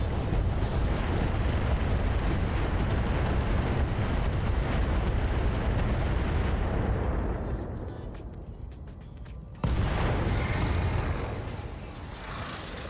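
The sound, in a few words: micro missile barrage impacts in video game Roguetech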